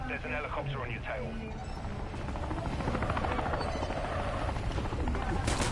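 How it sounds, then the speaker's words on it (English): A helicopter in a zombie video game drones with a steady, throbbing rotor that grows slightly louder, while voices talk over it throughout. "Watch the sky. There's an helicopter on your tail."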